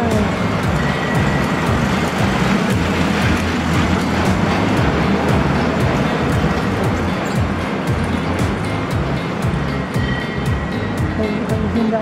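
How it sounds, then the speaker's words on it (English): A steady, continuous rumble and rushing roar of a train passing nearby in Rovereto, Italy, constant in loudness throughout. "Have you seen that train? It's very beautiful."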